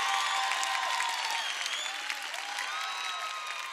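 Steady applause from an audience at a drag gala in Corralejo, continuous and fairly even throughout, with scattered whistles and crowd noise mixed in.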